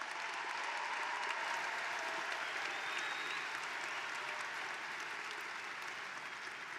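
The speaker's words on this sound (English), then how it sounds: "give another round of applause for all these graduates" A large audience at a graduation ceremony claps steadily for the graduates, a dense and continuous wash of applause that holds at an even level throughout.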